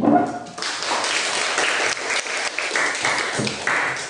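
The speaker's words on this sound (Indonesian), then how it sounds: "Mari kita tepuk tangan lagi." A classroom of students in an Indonesian history lesson applauds together, with steady, dense clapping lasting about four seconds and no talking over it.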